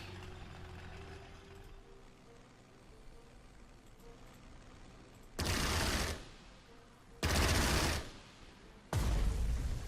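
Anti-aircraft guns fire on enemy aircraft in the Panzer Strategy war game, three loud bursts of rapid fire separated by short pauses, over a low rumbling game background.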